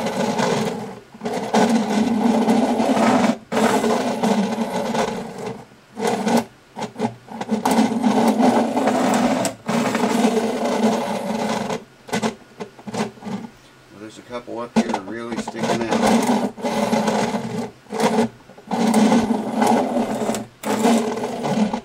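Guitar frets being roughly leveled by hand, a coarse file or abrasive rubbing steadily back and forth along the fretboard in long repeated strokes with brief pauses, close and fairly loud throughout.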